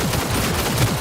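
Shotgun fire in Cyberpunk 2077 comes as a short, dense volley of loud, close blasts packed into about a second.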